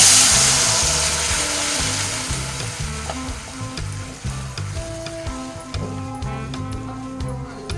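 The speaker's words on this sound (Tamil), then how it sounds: "இந்த அரைச்சி வச்ச ஆப்பிளை ஊற்றிடலாங்க." Ground apple puree for apple halwa pours into a hot pan and sizzles loudly, a steady frying hiss that gradually settles, with clinks and stirring scrapes toward the end.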